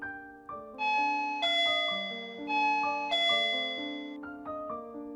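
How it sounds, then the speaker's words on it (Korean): A doorbell chimes a clear melodic ding-dong sequence of several bright, ringing tones that overlap and decay, repeating once. It sounds close and clean, with no voices. "난 조심스럽게 초인종 벨을 눌렀다."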